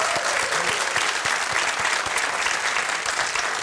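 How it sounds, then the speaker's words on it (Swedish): A Swedish TV lottery-show studio audience applauds the guests, a steady, dense patter of many hands clapping at once, even and sustained from start to finish with no break. "Nu så tycker jag att vi ger en varm applåd för mina gäster här också."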